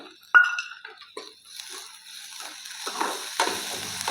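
Spinach with chana dal and other ingredients stir-fried in a pan for a quick soft breakfast, giving a soft sizzle with intermittent clinks of a spoon against the pan, close and moderately quiet.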